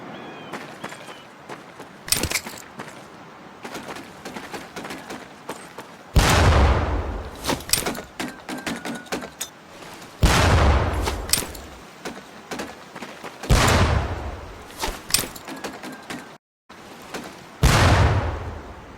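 Training grenades exploding near barrels in Medal of Honor Pacific Assault: five loud, booming blasts spaced a few seconds apart, each followed by crackling debris and rattling between detonations.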